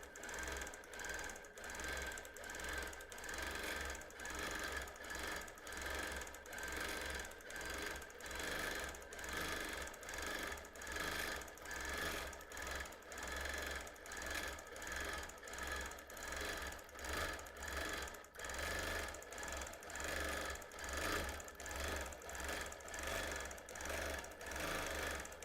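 A sewing machine quilts fabric with no batting inside, running in a long series of regular, rhythmic bursts of rapid needle clatter, close and steady, with short pauses between passes.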